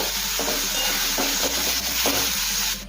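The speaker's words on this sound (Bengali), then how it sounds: "টমেটো আর কাঁচা লঙ্কা কোচানো। সব কিছু ভালোভাবে নেড়ে মিশিয়ে নেব" Tomato and green chilli masala stirred in a hot pan for Bengali ghugni, a steady close sizzle with a few scraping strokes of the spoon against the pan.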